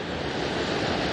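Strong water rushing through a North Carolina mountain trout creek, a dense, continuous roar close by with no pauses.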